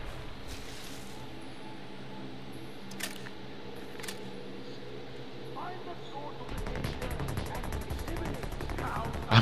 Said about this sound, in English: I wonder if this grenade is gonna get him.